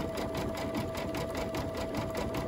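An embroidery machine stitching a Halloween quilt block design, a loud steady rapid mechanical chatter with a constant whine, running alone without talk.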